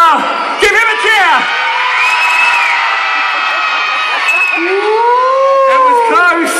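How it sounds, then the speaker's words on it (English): A Christmas crowd at an outdoor town-square event cheers and whoops for an air guitar contestant, loud overlapping shouts and rising yells from adults and children with a few excited squeals. "If you think Sid had the best air guitar, give him a cheer."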